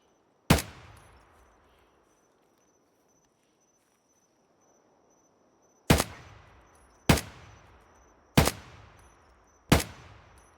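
Five sharp, loud gunshots ring out in Escape from Tarkov, each trailing off in a short echo. A single shot comes first, then after a long pause four shots follow at a steady rhythm about a second apart, over faint insect chirping.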